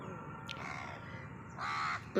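A crow caws twice outdoors, two harsh, drawn-out calls about a second apart that stand out clearly over a quiet background, with no talking.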